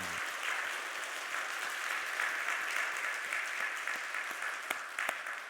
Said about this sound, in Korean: 우리 잘했다고 생각하는 만큼 힘차게 칭찬의 박수.